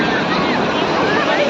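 Sea waves break on a beach on a hot day, a loud, steady broadband roar of surf mixed with wind rush across the microphone, lasting the full short stretch.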